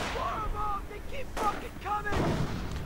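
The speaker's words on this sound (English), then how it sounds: "looks like an artillery strike is going in" A video-game artillery strike and gunfire play as repeated booming impacts and shots under a continuous voice talking over them.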